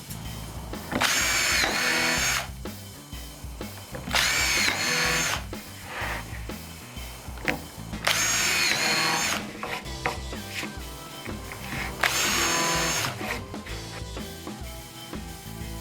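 A power drill bores screw holes into wooden barn door boards in four separate bursts of whirring, grinding sound, with quieter handling noises between them.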